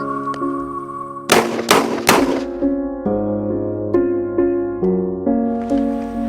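Three sharp, loud shotgun blasts in quick succession during a duck hunt, up close and fired outdoors, over a steady background of music.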